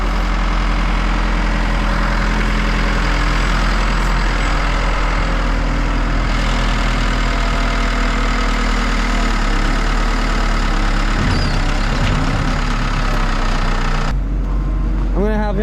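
Cat loader with no throttle response sitting at a steady idle, a loud continuous low diesel rumble up close, with people talking over it before the engine note drops near the end.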